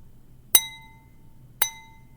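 Two taps on a wine glass about a second apart, each a clear ringing ping that fades over a quiet hiss.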